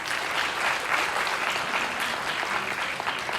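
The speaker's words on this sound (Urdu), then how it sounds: "میں چاہتا ہوں کہ آپ لوگ اس کے لیے بھی تالیاں بجائیں" A crowd at a human rights awards ceremony claps steadily and loudly, an even, sustained wash of applause that carries through the whole moment with only faint voices beneath it.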